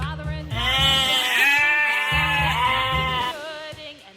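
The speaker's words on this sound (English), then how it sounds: "sheep" A sheep bleats in a long, wavering, quavering cry lasting several seconds, close and loud, set over light rhythmic background music.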